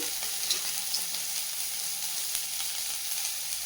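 Onions sautéing in a pan, a steady close sizzle and hiss with faint stirring ticks throughout.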